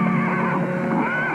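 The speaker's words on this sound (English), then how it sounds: "Suddenly there was a commotion. Patterson's horse reared, throwing him." A horse rears and lets out a loud, drawn-out neigh during a sudden commotion. The whinny is close and unbroken and fills the whole moment, with no talk over it.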